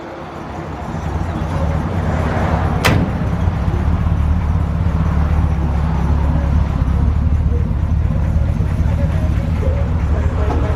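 A 1956 Chevrolet 3100 truck starts with a sharp click, then its engine settles into a steady, close running rumble that continues to the end.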